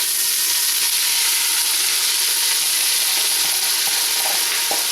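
Diced yellow onion sautés in oil inside a pressure cooker, giving a loud, close, continuous sizzling hiss with a few light clicks and stirs near the end.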